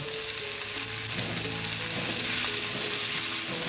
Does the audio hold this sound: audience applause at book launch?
no